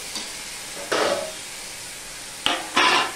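Papaya and chickpea dal being sautéed with sugar in a pan, giving short bursts of scraping and sizzling, two main stirring strokes separated by quiet gaps, close and fairly loud with no talking.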